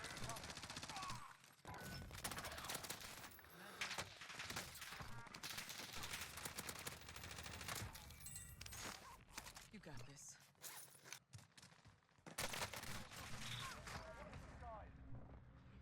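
FFAR rifle fire in Call of Duty Warzone, rapid dense bursts of automatic gunshots that run nearly the whole time, loud and close, mixed with other crowded game effects.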